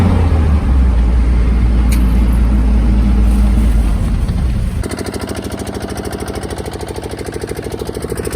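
A DJ vehicle's engine in Bhimgarh starts up, shifting from a loud, steady low rumble into a fast, even chugging idle that carries on to the end, close and alone with no talk.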